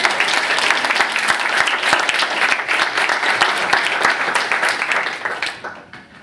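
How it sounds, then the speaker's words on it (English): A large audience at a nonprofit career panel gives the panelists a full round of applause, dense steady clapping that holds strong before tapering off at the end. "let's give them a round of applause"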